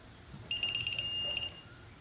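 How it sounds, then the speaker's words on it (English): Quinn torque wrench beeping as the set torque is reached: a loud, near electronic tone pulsing several times and then holding steady for about a second before cutting off, with no talking. "this is a Quinn torque wrench, which it's got a beeper on it. You'll hear it."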